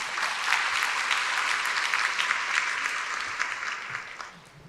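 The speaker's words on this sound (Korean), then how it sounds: "박수 부탁드립니다" Sustained audience applause in a hall at Ewha Womans University's 140th anniversary ceremony, many hands clapping steadily and loudly, then tapering off toward the end.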